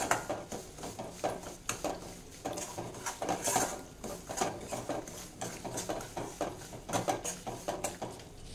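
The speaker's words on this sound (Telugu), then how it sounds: "ఇప్పుడు మళ్ళీ కొద్దిగా నెయ్యి వేసుకుంటున్నాను, మళ్ళీ ఫ్రై చేసుకుందాం." Semolina frying in ghee in a pan for sheera halwa, soft rhythmic scraping and clinks of a spoon against the pan repeated through the stretch, fairly quiet, with no voices.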